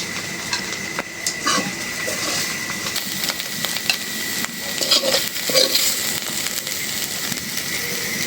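Poppy seeds (posto) fried crisp in a pan for a pre-dawn Ramadan meal, a steady close sizzle with occasional stirring scrapes and light utensil clinks throughout.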